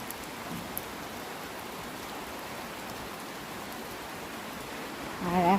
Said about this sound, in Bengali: তো দেখো বৃষ্টি পড়া শুরু হয়ে গেছে